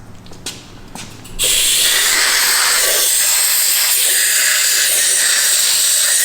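Compressed air blasting out the oil holes of a Duramax diesel engine block during a K20 diesel swap build, a loud steady hiss that bursts on after brief faint noises and holds to the end.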